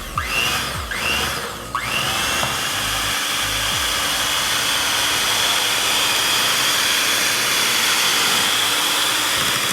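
Electric mixer beating chocolate cake batter with eggs: a loud, close, continuous whirring drone that holds steady throughout after a few uneven sweeps at the start.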